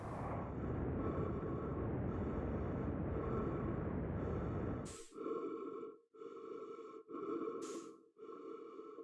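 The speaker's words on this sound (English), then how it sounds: "You can hear my breathing getting faster and faster too." Heavy, rasping breaths of a spacesuited character in the game Outer Wilds, continuous panting at first, then separate gasping breaths that come quicker and sharper against a humming electronic drone.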